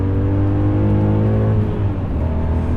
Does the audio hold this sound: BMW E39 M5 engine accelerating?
yes